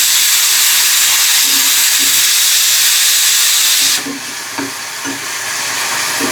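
Roasted tomatoes go into a sizzling goat meat curry with turmeric: a loud, bright hiss of frying that suddenly drops and softens, then continues with lighter sizzling and a few soft stirring knocks.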